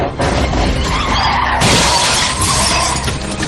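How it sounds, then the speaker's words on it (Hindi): Car crash sound effect with windshield glass shattering: a loud, continuous roar of skidding tyres and grinding metal, then a sharp burst of breaking glass partway through, dense and close with no voices. "खुलकर इतनी तेज विंडशील्ड से टकराया कि पूरा कांच छोटे छोटे टुकड़ों में बिखरकर"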